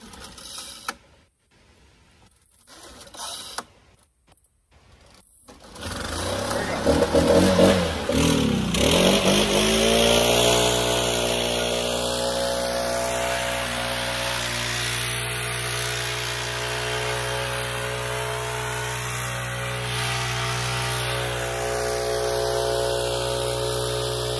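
A Stihl BR 800 backpack leaf blower starts after a few sputtering pulls, then settles into a loud, steady high-pitched engine roar that runs on continuously up close.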